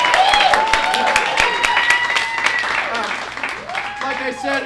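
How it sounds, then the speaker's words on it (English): An audience gives a round of applause at an evening show, scattered claps running under a voice and cheering, thinning out toward the end. "Round of applause for you."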